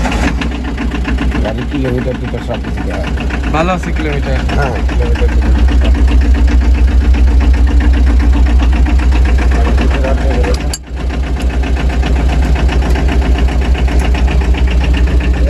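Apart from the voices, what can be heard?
Tata X2 mini pickup engine idling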